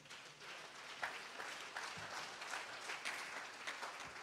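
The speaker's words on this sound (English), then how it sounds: "Clap your hands for the Lord." A church congregation claps along in worship, a dense steady patter of many hands sustained throughout with a few sharper accents.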